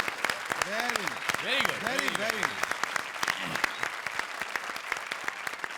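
Loud applause from an audience fills the scene, with a few cheers and whoops rising over the steady clapping.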